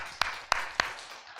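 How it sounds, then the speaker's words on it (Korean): Audience at a health lecture in a hospital: three sharp, evenly spaced claps over a faint hiss of scattered applause, fairly close. "박수 한번 합시다."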